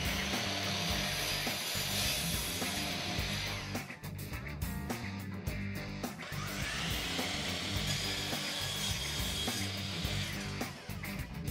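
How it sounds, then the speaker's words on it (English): A miter saw set on a PortaCube STR portable stand makes cuts in wood, with a loud motor whine and harsh cutting noise, a brief drop around the midpoint, then another cut. "you are ready to start making cuts with your miter saw."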